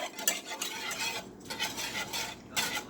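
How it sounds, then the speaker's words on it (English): A whisk stirs cream cheese into hot milk in a pot, scraping and swishing in quick repeated strokes with brief pauses, close and clear. "I'm just using my whisk here to like whisk it"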